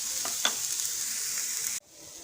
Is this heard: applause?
no